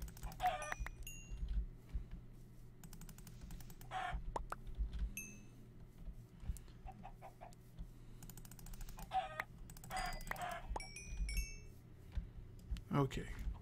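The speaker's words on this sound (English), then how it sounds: "So many chickens." Chickens clucking in the video game Minecraft, scattered short clucks and squawks repeating across the scene at moderate distance over a steady low background hum.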